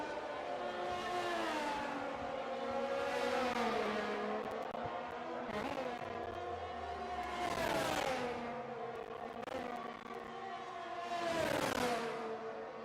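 Engines of race cars, a Mercedes and a Ferrari among them, in a racing game at a Spanish circuit swell and fade as the cars sweep past one after another in repeated roaring waves, with pitch climbing and dropping through each pass.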